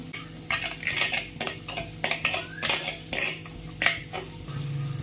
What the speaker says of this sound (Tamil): இப்போ நம்ம கட் பண்ணி வச்சுக்கிற வெங்காயத்தையும் இதில் போட்டுக்கலாம்.